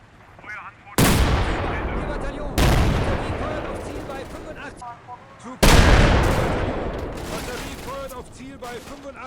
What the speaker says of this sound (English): he fires a shell straight into the front hull of the T-34